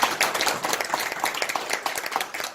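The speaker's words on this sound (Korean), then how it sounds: "그동안 정말 수고해주신 우리 조병루 교수님께 박수 한번 더 드리겠습니다." An audience claps for a professor at a gathering, a brief, fairly dense patter of many hands heard from within the room.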